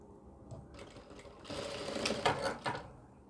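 A sewing machine stitches a ladies scarf mask, its rapid mechanical whir starting faint and growing louder and denser midway with a few sharper bursts, close by with no talk.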